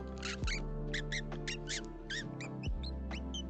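A voice imitates a squeaky rat: a run of short, high-pitched squeaks in quick, uneven bursts, close and fairly loud over a steady low background hum.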